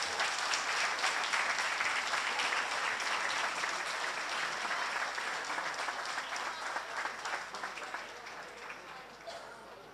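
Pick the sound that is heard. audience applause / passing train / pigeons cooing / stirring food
audience applause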